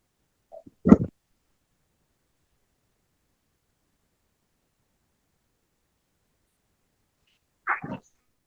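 Two short, sharp sneezes separated by long silence, the first preceded by a small sniff, both close and fairly loud.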